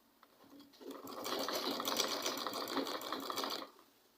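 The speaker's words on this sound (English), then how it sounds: "Then I'll start sewing." Sewing machine stitching fabric for a spiral turban, a steady rapid whir of needle strokes that starts after a short quiet lead-in, runs for about three seconds at close range, then stops.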